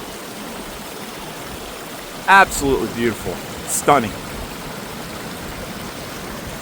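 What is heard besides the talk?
small waterfall stream flowing in a glen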